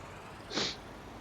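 A single short sneeze, fairly soft and close, rises briefly out of a quiet room background and fades within about a quarter second, with no talking around it.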